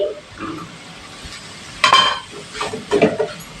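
Capsicum with chili sauce and soy sauce is stirred in a pan, a few quick scraping clatters of a spoon against metal over a soft background sizzle, close and brief.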